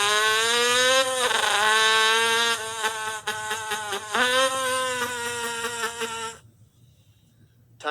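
A voice imitates an early-1990s Honda CR80 two-stroke dirt bike engine, buzzing steadily with rising and falling revs and a stuttering break midway, loud and close before cutting off near the end.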